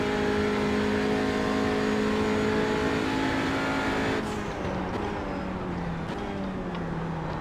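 A TCR touring car engine at Imola in a racing video game drones loud and steady at high revs, then drops pitch abruptly as the throttle lifts and climbs again, all close and continuous.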